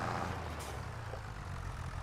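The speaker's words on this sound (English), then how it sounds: "shut the tractor off" A farm tractor engine runs steadily nearby, a continuous low diesel rumble with broadband noise filling the short stretch, no talk over it.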